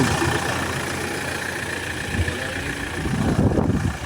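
A cold car engine, oil not yet warmed, idles steadily up close, a continuous rough mechanical rumble with a faint clattering tick, rising slightly toward the end.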